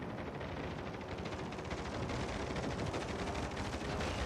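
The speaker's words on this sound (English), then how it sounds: "So our allies are firing on him." Allied warships firing in the naval game World of Warships Legends: a steady, dense roar of distant rumbling gunfire with rapid pulsing bursts, continuous and fairly faint throughout.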